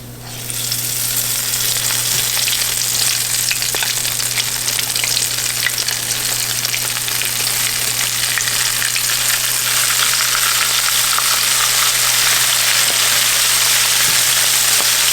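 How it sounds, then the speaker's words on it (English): Battered calamari dropped into hot oil fries with a loud, dense, continuous crackling sizzle that holds steady throughout, close up and alone without talk. "transfer it to your hot oil very carefully"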